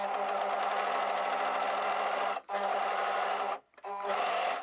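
An overlocker serger runs in fast, steady bursts while gathering a single layer of fabric, close and loud, with two short pauses between stitching runs.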